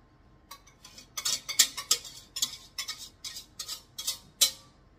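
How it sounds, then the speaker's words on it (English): A whisk beating coffee bread pudding mixture in a bowl, producing quick rhythmic metallic clinks and scrapes in uneven bursts, close and fairly quiet with no talking. "I always like to give it this little whisk at the end, because that coffee does like to settle"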